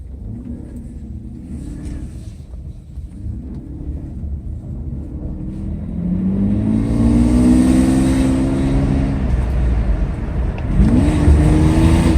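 A Mercedes 600SL drives along with a steady low engine rumble that swells as the car accelerates, the pitch rising smoothly before easing, with no voices over it.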